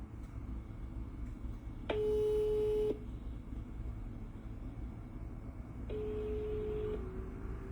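A telephone busy tone on a call that will not connect sounds as two steady beeping tones over a constant hiss, each about a second long, separated by several seconds of line noise.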